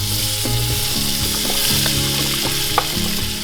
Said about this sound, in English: We're gonna saute these for about 5 minutes